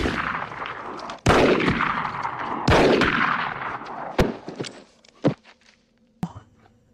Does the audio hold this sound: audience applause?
no